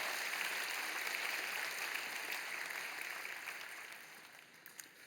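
A church congregation applauds to welcome a new evangelist during a Sunday service, a soft, distant wash of clapping that holds steady and then slowly fades.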